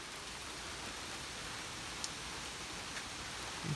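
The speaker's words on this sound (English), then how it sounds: "still a lot of rain, a lot of wind" Steady hurricane rain hisses continuously during Hurricane Florence, a soft, even wash of drops with a faint wind rush and a couple of tiny ticks, no voices present.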